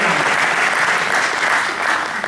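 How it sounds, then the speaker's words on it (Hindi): Audience at a Holi celebration program breaking into loud, dense applause, a sustained roar of many hands clapping close and continuous without letup. "एक प्यार के लिए जोरदार ताली इसी बात पे हो जाए"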